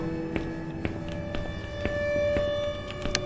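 Police car siren in the horror video game Not Alone, a steady wailing tone running throughout over a backdrop of repeated faint knocks and game ambience, with no talk.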